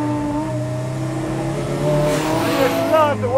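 Kimera EVO37 Group B restomod road car engine, loud and steady with rising and falling revs as it drives, a sharp climbing note near the end, with no speech.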